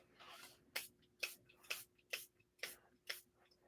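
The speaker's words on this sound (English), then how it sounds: "And give it some sprays." Six short hissing sprays of sparkle spray from a can come in an even rhythm, each a quick close burst separated by brief pauses.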